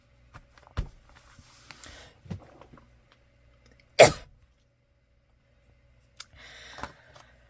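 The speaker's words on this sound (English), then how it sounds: "I will endeavor to remove that disgusting coughing." A few short, sharp coughs spaced out over several seconds in a quiet room, one much louder burst in the middle, with faint clicks between.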